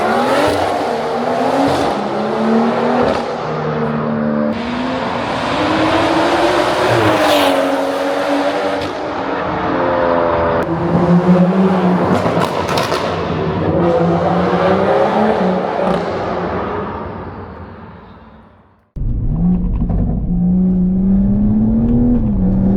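A stage 3 big-turbo BMW M140i accelerates hard through the gears, its engine note climbing loudly with brief dips at shifts, then a sudden cut and a fresh surge of revving near the end.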